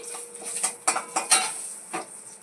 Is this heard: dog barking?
no